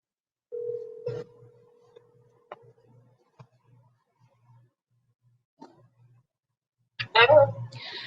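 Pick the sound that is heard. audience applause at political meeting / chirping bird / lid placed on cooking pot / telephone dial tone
telephone dial tone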